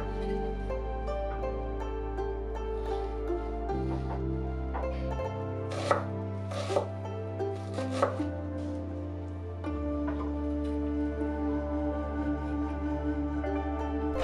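A knife chops an onion into small brunoise cubes on a board, with a handful of quick, crisp taps under steady background music.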